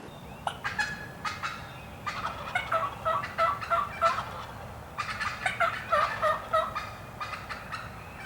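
A wild turkey gobbler at a turkey hunt calls in rapid, rattling bursts, with two clusters of loud, moderately close calls and short pauses between them, clear over a steady outdoor hiss with no talking.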